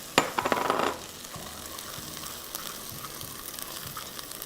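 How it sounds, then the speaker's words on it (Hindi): A piece of dough hits hot ghee with a loud burst of crackling sizzle, then settles into a steady, quieter frying hiss with occasional pops. "अब घी काफ़ी गर्म है, मैंने बंद कर दिया और ये तीसरा हिस्सा डाल दिया"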